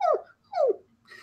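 A dog gives two sharp, close whimpering barks, evenly spaced, then a softer whine trails off, with no talk underneath.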